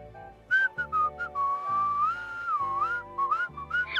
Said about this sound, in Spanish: genera un sonido muy agudo al que llamamos silbido